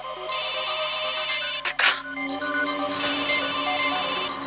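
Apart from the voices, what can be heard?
phone ringing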